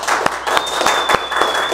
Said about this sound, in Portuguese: Uma salva de palmas pro Zoccoli.